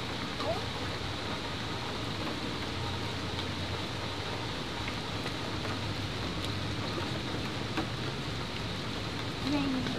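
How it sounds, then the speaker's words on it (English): Steady rain falls throughout, a constant broadband patter without clear gaps. "Rain. You better get your umbrella."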